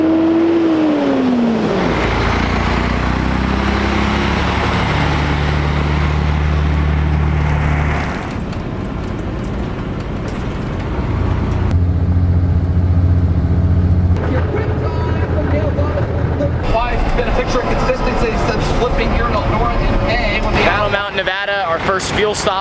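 A car driving along a road in Nevada on a road trip, a steady close engine and road rumble with wind noise, its tone shifting as it accelerates, with people talking over it at times.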